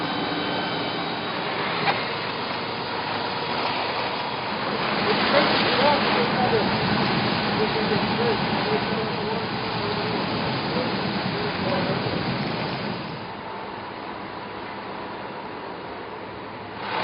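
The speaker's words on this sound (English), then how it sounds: "Explorer Robert Lee is allowed to use the deck gun on Engine 3 under proper supervision." Water from the deck gun on a fire engine sprays in a steady, loud hissing rush at a mattress outlet fire, swelling for several seconds before easing back to a broad, continuous wash.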